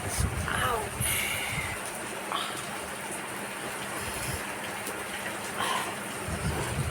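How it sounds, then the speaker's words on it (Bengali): Continuous rain falls steadily, a broad, even wash of patter and drips against surfaces. The rain sounds fairly close and fills the whole stretch, and faint voices can be heard beneath it. "কন্টিনিউ বৃষ্টি হয়েই যাচ্ছে"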